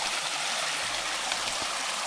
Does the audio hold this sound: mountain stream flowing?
yes